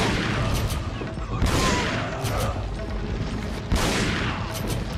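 Shotgun blasts in Resident Evil 4, two heavy booming shots a couple of seconds apart over a steady din of combat noise.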